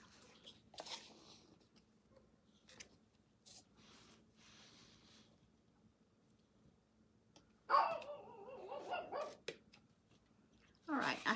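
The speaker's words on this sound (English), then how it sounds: "My dog is having a fit because the other dogs are barking." A pet dog barking indoors in short scattered bursts, a few faint yips early, then a louder run of barks and whines, then a final loud bark, against a quiet room hum.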